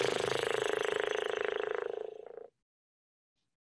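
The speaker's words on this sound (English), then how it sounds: "The next one I wanted to talk about is lip trills, or some people call it motor boating." A single unpitched lip trill, a fluttering motorboat-like buzz of the lips, held steadily for about two seconds before stopping abruptly into silence.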